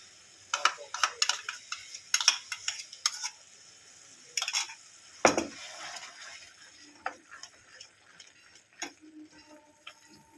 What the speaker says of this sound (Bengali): এবারে এখানে কালো সর্ষে সাদা সর্ষে বাদাম লঙ্কা আর আদা পেস্টটা দিয়ে দেবো